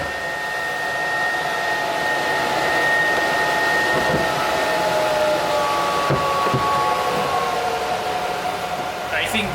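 A homemade cooler fan blows air with a steady, close whoosh and a faint whine, running unbroken throughout.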